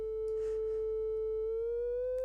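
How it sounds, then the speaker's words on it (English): Steady sine tone from a BERNA 3 synthesizer module, one clean sustained pitch that glides slightly upward near the end, heard alone with faint bursts of background noise. "I mean, the sine wave"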